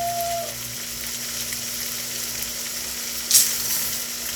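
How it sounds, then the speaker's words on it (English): Rice sautéing in a pan for an Indian yellow rice dish gives a steady, close sizzle with a brief louder stir near the end and no talk. "And now I'm going to go ahead and add the rice and start sauteing."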